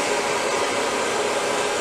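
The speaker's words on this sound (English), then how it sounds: "keep the blow dryer moving constantly" Hair dryer blowing continuously at close range while hair is styled with a round brush, a steady loud whooshing drone with no talking.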